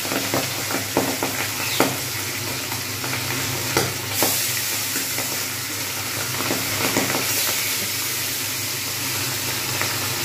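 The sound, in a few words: pabda fish frying in hot oil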